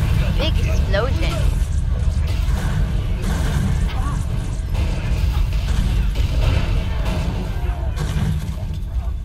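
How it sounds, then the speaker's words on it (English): A big explosion in the Halo Firefight game mode booms and crashes loudly, followed by a dense rumble of game effects and mechanical clatter, with a voice talking over it. "Big explosion."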